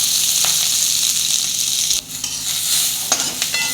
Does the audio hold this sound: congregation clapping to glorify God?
no